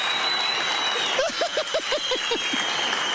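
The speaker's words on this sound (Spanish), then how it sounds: "Un aplauso para doña Tere." Audience applause for doña Tere at a Christmas comedy show, a steady wash of clapping with a short run of rhythmic chirping laughter-like voice sounds riding on top midway.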